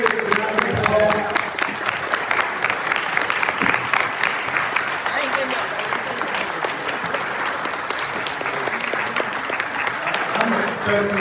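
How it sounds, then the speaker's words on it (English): Audience at a Louisville Metro Council District 5 candidate forum applauds the candidates, a sustained, dense round of clapping that stays loud and even for several seconds, with some crowd murmur and voices mixed underneath. "Let's give these candidates a round of applause"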